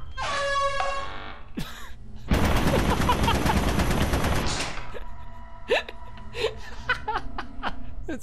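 Rapid turret gunfire in a video game bursts in a dense, loud volley for about two seconds. Laughter and whooping sounds come before and after it, along with a few scattered sharp pops.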